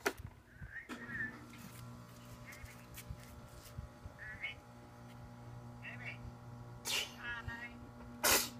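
A child's sneeze at home during a FaceTime call, a short sharp burst among scattered household sounds and a steady electronic tone, with people talking nearby.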